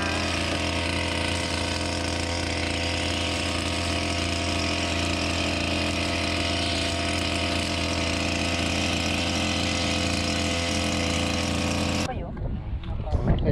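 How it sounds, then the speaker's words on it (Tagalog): Grass cutter with nylon line running continuously at high speed, a loud steady whining engine drone close by that drops away abruptly at the end. "Ito na po, boss ko na po ang nagga-grass cutter."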